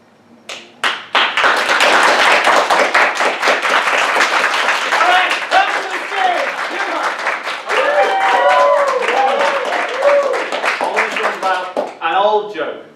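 A comedy-night audience claps together on cue, building from a few scattered claps into loud, fast, sustained applause with rhythmic taps, then thinning out; a voice speaks over the end.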